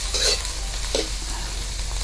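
Food fries in a pan in a home kitchen while being stirred, with a steady sizzle and a couple of short scraping stirs, close and moderately quiet.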